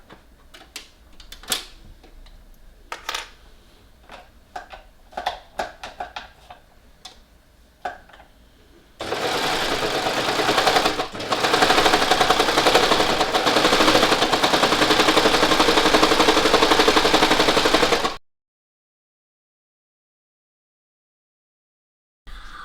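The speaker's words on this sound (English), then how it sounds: "we're literally going to overlock both shoulder seams, and because I've threaded that twill tape through the top, it will sew in as we go" Serger overlocking both shoulder seams of a leopard print garment with twill tape sewn in, starting with scattered handling clicks, then a loud, steady rapid whir of stitching for about nine seconds before it stops abruptly into silence.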